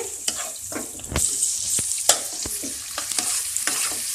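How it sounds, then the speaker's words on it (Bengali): Onions fry over a medium flame in a pan for chicken dak bungalow, a steady close sizzle broken by repeated sharp stirring scrapes and clicks of a spoon, with no talking. "পেঁয়াজের বাদামি রং ধরা অবধি আমরা এটাকে কুক করব।"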